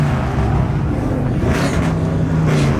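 A car doing burnouts at a car meet, with police present in the parking lot, gives a steady loud engine roar with tire noise. Brief hissy squeal bursts come through near the middle and the end.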